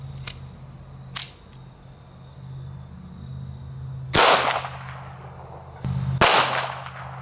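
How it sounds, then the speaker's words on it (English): Two sharp, loud reports from a Smith & Wesson Victory .22 Long Rifle pistol loaded with 40-grain lead round-nose rounds, each with a brief ringing decay, preceded by a few faint clicks and handling noises, outdoors with no talking. "We're going to start out with a 22 long rifle. This is a Smith & Wesson Victory"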